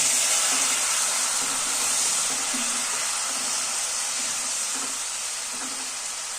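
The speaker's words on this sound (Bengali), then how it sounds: "অল্প অল্প জল দিয়ে একটু কষিয়ে নিচ্ছি" Spice masala sautés on low heat in a pan with a little water added, giving a continuous hissing sizzle close up with soft rhythmic stirring underneath, slowly easing in loudness.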